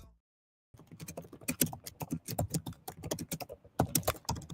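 Quick, uneven clatter of typing on a computer keyboard, close and fairly quiet, with dense bursts of key clicks and brief pauses.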